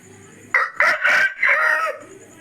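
A single chicken, kept as a newly bought bird that has fallen sick with watery eyes, crows in a loud, close call made of several rising and falling segments, with a quiet pause before and after and no talk.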